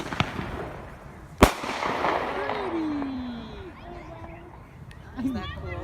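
Fireworks going off on Victoria Day weekend: one sharp, loud bang, then whistling and crackling bursts, with people talking nearby throughout.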